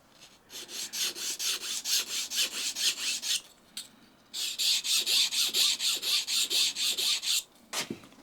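Kitchen knife, being upcycled into a marking knife, stroked over a strop to remove the burr: rapid, even rasping strokes close up, in two long rhythmic runs separated by a brief pause.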